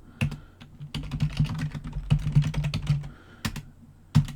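Fingers type on a computer keyboard while entering data into a database table, with irregular bursts of clicky keystrokes and short pauses between them, close and fairly quiet.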